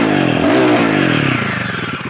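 A Royal Enfield Guerrilla 450 motorcycle engine revs loudly and close, its pitch rising sharply then settling into a steady throbbing rumble.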